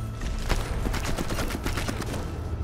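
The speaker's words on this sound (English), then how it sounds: "Someone's shooting!" Rapid bursts of gunfire from the Sniper Elite 4 video game, with dense repeated shots and volleys going off continuously at a steady loud level with no pauses.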